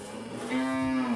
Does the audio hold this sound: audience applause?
no